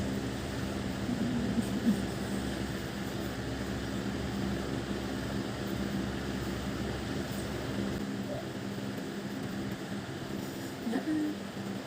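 A hair dryer blowing on frizzy hair, a constant loud whooshing motor roar held steady throughout, close by, with faint voice and laughter beneath it.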